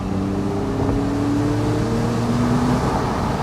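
A Porsche 911 Carrera 4S (997.2) convertible engine revs toward about 5,000 RPM, a loud, steady, rising drone heard from inside the open car with no speech.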